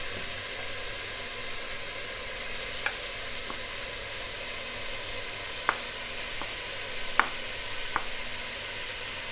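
Sweet sausage frying in a pan gives a steady, broad sizzle that runs throughout, with a few faint clicks on top and no talking.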